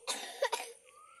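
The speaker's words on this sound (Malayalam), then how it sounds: "ചെറിയൊരു ചുമ പോലല്ലേ?" A single small cough, close and fairly loud, with a couple of quick bursts and then near quiet.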